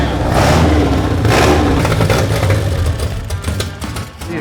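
A race car engine runs without a muffler, harsh and very loud at close range. It gives a rough, raspy roar that surges and drops slightly over a few seconds.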